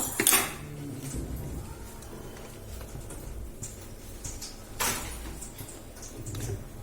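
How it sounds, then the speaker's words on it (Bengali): A kadai pan set down on a gas stove, giving a loud metallic clatter at the start, then a quieter second knock of cookware midway over low kitchen background noise. "এবারে কড়াইটা দিয়ে গ্যাসটা অন করলাম।"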